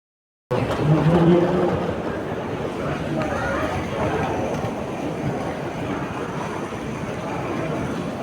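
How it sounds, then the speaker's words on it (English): An old German train heard from inside, a continuous rumbling rail noise with clattering beneath steady background chatter from passengers. "We gotta get in this old ass German train."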